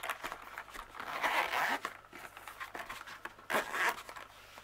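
A zipper on a storage case for diamond painting supplies is pulled open in two long rasping runs, close and fairly quiet, with faint crinkling handling noises between them.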